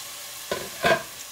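Shrimp frying in a pan for shrimp fried rice, a steady close sizzle broken by two quick bursts as pieces are dropped in or stirred.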